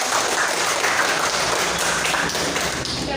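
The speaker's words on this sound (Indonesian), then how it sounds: "tepuk tangan." A school class claps together in applause, a dense continuous patter of many hands filling the room at steady volume for a few seconds, with no talking over it.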